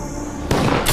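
Gunfire in a movie shootout bursts out loud and sharp as a rapid volley, with a second blast landing right at the end.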